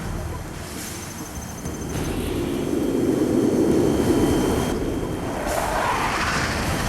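MiG jet fighters in the video game C&C Generals roar past, a broad rushing engine noise that swells through the middle of the clip and holds steady before easing slightly.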